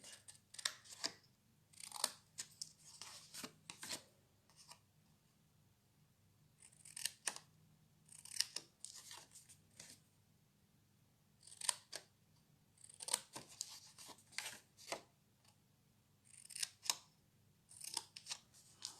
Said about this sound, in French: Le ciseau, je vais venir couper mes petites languettes pour pouvoir fermer ma boîte.